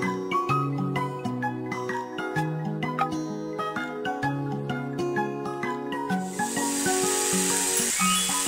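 A sustained snake hiss, a steady bright airy sound, rises near the end of the track over bouncy children's music with tinkly melodic notes playing throughout.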